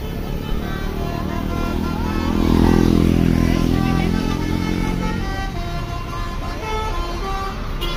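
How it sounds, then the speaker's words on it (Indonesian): A bus arrives at a roadside bus-spotting spot in Ciamis, its engine rumble swelling as it draws close and passes, with horn toots and other traffic around. "Itu ada satu bus datang, gak tahu bus apa ya teman-teman"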